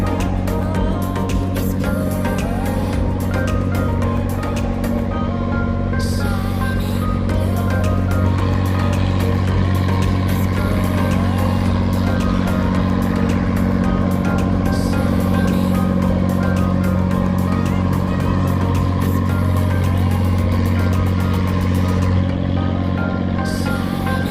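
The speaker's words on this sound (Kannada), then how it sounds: "ಸೊ ಫ್ರೆಂಡ್ಸ್ ಈಗ ಗೌರ್ಮೆಂಟ್ ಬೋಟ್ ಬರ್ತಾ ಇದೆ ನೋಡ್ಬೋದು." A government passenger boat's engine drones steadily and loudly on the backwaters of Alleppey, a continuous low rumble that holds throughout without pause, no voices over it.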